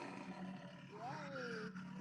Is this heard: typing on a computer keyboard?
no